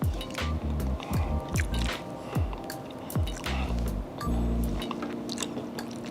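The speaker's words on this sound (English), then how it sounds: "I hope you guys can hear that crunch." Someone bites and chews crunchy garlic parmesan chicken wings up close, with repeated wet crunches and squishy chewing in an irregular rhythm, and no talking.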